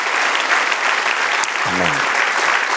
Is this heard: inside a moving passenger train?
no